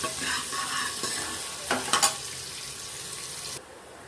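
Chopped onion frying in oil in a pan while being stirred, a steady sizzle with scraping spoon strokes near the middle, then the hiss drops off abruptly near the end.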